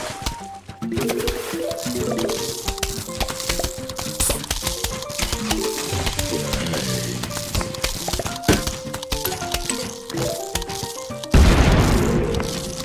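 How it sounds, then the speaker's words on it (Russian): Cars blowing up in a PopCap video game, a dense run of sharp booms and cracks layered over busy game music, with a louder burst of explosions near the end. "Так, это у меня машины взрываются."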